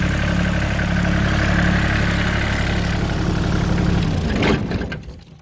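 A Kioti CS2410 compact tractor's small diesel engine idles steadily with a low, even rumble, then cuts off and winds down to quiet near the end.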